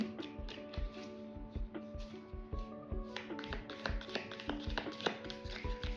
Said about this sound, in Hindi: जब तक मैं कार्ड्स को शफल कर रही हूँ